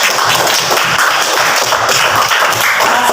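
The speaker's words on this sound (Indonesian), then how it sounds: "Tepuk tangan dulu untuk kita." Children in a classroom clap their hands together in a dense, steady rhythmic beat that carries on throughout, close and fairly loud, with no talking over it.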